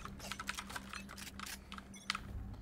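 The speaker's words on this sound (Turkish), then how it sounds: "Bir de biraz klavye sesi" Computer keyboard typing, a rapid patter of close keystrokes with uneven rhythm and a steady low hum underneath; no voices.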